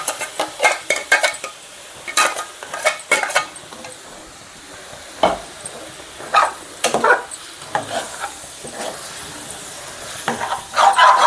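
Tomato puree goes into half a kilo of okra frying in a pan: metal utensils clatter and scrape in irregular bursts of stirring over a soft background sizzle, with no talking.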